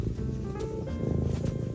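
A cat purrs in a low, continuous rumbling drone, close up and steady, with faint rustling over it.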